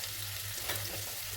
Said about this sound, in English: So I've got oil in the pan. Make sure the oil is nice and hot. Now I'm just adding 1 onion.